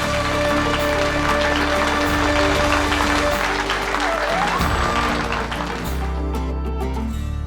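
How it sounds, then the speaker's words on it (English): An audience applauds a married couple in a television drama, giving steady, dense clapping over background music that holds for several seconds before thinning out. "give them a round of applause"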